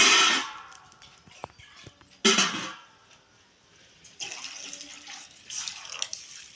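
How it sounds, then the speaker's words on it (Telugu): Water splashes and pours in several bursts into a metal pot for cooking Maggi noodles, with brief clinks of cookware between pours; close and fairly loud. "వాటర్ వేస్తున్నాను"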